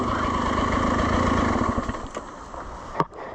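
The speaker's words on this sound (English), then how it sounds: "loud enough to overpower the sound of my 2-stroke dirt bike" A two-stroke dirt bike engine runs steadily close by with a buzzing, motorcycle-like drone that eases off partway through, with a sharp knock near the end.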